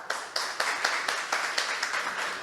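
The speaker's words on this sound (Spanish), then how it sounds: "Démosle una bienvenida a Julián con un aplauso" Scattered hand claps welcome a guest speaker at a talk on artificial intelligence and literature. Sharp individual claps land at an uneven, loose rhythm, fairly quiet and slightly distant, with no voices over them.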